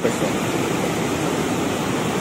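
River water from the Rio Salgado in Ceará rushing steadily downstream toward the Castanhão reservoir, a loud, continuous broadband roar; someone briefly speaks over it.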